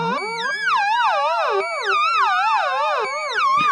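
An AE Modular system paired with a Korg MS2000 synth plays a bright, buzzy tone whose pitch wobbles in fast, regular LFO vibrato, with the overall pitch rising and falling in swells, loud and continuous without voices.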